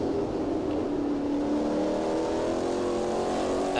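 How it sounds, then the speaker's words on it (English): A Lola T70 MkII race car engine in a racing video game drones steadily and climbs in pitch as it accelerates out of a corner, with a smooth continuous tone and no voices. "a nice purring sound on acceleration on the exit"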